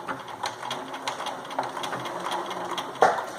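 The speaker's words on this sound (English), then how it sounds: "So I'm gonna do a back stitch, go back 3 and forward 3." A sewing machine runs a short back stitch while sewing the sides and bottom of a drawstring bag: steady mechanical whirring with rapid clicking, a brief reversal, and a sharper clack near the end, no talking.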